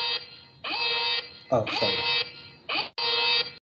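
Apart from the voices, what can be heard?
home alarm going off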